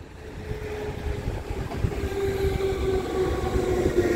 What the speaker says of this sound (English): finally, our train is here